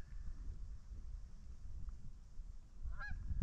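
A goose honks in a quick burst near the end, sounding fairly distant over steady low wind rumble outdoors at a shotgun patterning range in early fall.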